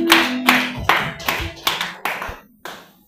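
A church congregation claps during a worship service, giving about seven firm, evenly spaced claps. A brief voice is heard at the start.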